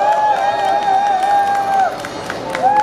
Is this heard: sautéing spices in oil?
no